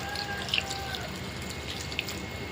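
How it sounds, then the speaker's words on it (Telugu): Water poured from a tap or vessel into egg and drumstick curry in a pan, a short steady splashing trickle with a few drips, close and without talking. "కొంచెం వాటర్ పోసుకున్నాం."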